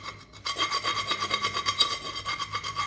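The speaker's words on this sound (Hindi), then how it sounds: "ये इस तरह के जो निशान रह जाएंगे उनको आपने फिर इस तरह चम्मच की मदद से खुरच लेना है।" A spoon scrapes burnt marks off a pan in quick, continuous rasping strokes, starting after a short quiet moment and staying close and steady, with no talking.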